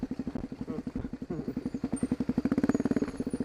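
Dirt bike ridden along a trail in Hawaii, its single-cylinder engine chugging in a fast, steady pulse that quickens as the throttle opens, close to the microphone with clattering from the ground and no talk.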